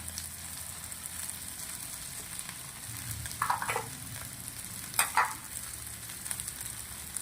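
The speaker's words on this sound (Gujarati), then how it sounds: "હવે મસાલાને મસ્ત મિક્સ કરી દેવાનું છે" A spoon stirs and mixes spices into a potato poha mixture in a pan over a soft, constant sizzle, with a few louder scraping strokes in the middle.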